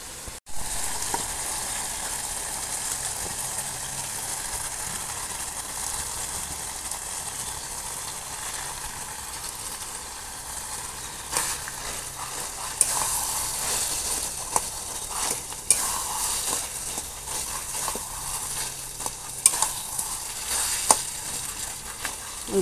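Boiled, mashed potatoes are stirred into frying vegetables in a pan for vegetable chops, a soft continuous sizzle underneath occasional scraping clicks and knocks of the spoon that grow more frequent later on.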